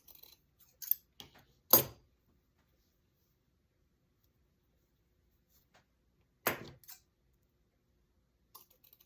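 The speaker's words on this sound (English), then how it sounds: "cut a little notch at the end of each one" Scissors snip notches into the ends of mesh ribbon for a flower wreath: a few short, crisp cuts spaced apart amid near silence, with faint small clicks of handling.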